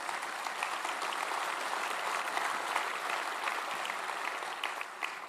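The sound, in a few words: applause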